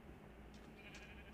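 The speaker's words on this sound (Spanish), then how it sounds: "Estas ovejas." Sheep in the Minecraft Pocket Edition video game give a few short, faint bleats over a steady low background hum, with no talking.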